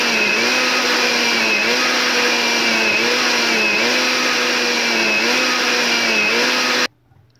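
A kitchen blender purees cooked, cooled tomatoes for homemade tomato paste, a loud steady whirring drone with rhythmic pitch wobbles as the blades churn, running alone before cutting off abruptly near the end.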